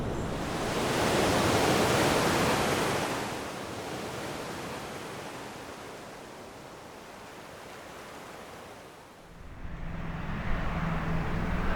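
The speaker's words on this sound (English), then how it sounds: "I could hear the waves breaking along the shoreline in the distance." Pacific waves break along the Big Sur shoreline in California in the distance, a broad, hissing roar that swells, fades, then surges again, steady and without voices.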